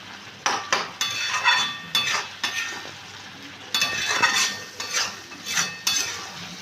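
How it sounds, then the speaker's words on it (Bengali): A spoon stirs dried fish curry with potato, eggplant and coriander in a hot pan, producing repeated scraping strokes and light clinks over a steady sizzle, close and fairly loud. "দিয়ে আবারও প্রত্যেকটা জিনিস ভালো করে মিশিয়ে নিচ্ছি।"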